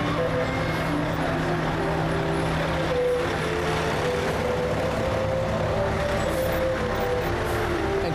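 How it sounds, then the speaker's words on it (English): Several fire trucks rolling by in a row during a Christmas parade in Crossville, a loud steady engine rumble with tonal drone, close and continuous. "Several fire trucks coming in a row here."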